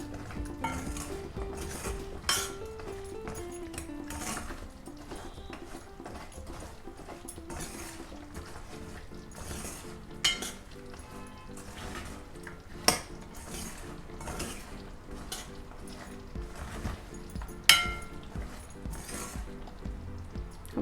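Shakarpara stirred in sugar syrup with a ladle in a pan over low flame, heard as irregular metallic clinks and scrapes against the pan, fairly faint with a soft background hum and occasional sharper knocks.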